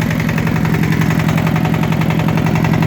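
Walk-behind motor tractor with a floating gearbox, working a field with old corn stalks, its engine running loud and close with a steady, rapid pulsing throb as throttle is given in first gear.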